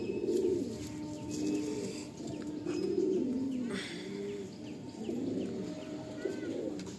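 A breeder pair of Madrasi pigeons coos repeatedly, soft rolling calls coming in a regular series, close by and fairly quiet.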